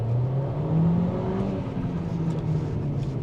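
A Geely Coolray SUV pulls away from a standstill at half throttle, its engine giving a steady, moderately loud drone with a rising whir and road rumble, no voices over it.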